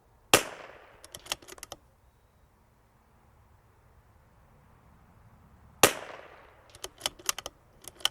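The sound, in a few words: CZ 457 .22LR rifle shots at targets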